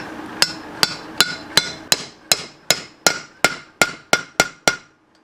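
A dozen sharp metallic hammer blows at a steady, even pace, driving a bearing race into a camper trailer wheel hub, each ringing briefly before the next strike, close and loud with no talking.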